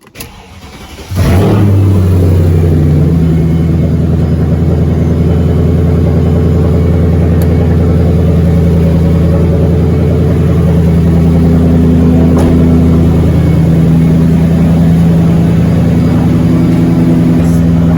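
A Mercedes CLK 500 V8 starts up after about a second of quiet, then runs steadily and loud while driving, its low engine drone holding through the clip with slight changes in pitch.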